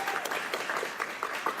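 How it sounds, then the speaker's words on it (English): Applause from the audience at a UK general election count, a short burst of brisk, loud clapping from a hall crowd. "that doesn't really deserve a huge clap"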